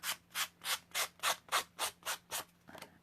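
Nine rhythmic scraping strokes of a sanding block rubbing cardstock edges, evenly spaced and close, then a softer final scuff.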